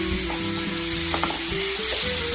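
Chopped dates sautéing in a pan give a continuous close sizzle and frying crackle, with stirring scrapes and faint tonal hums underneath, steady throughout and with no voices.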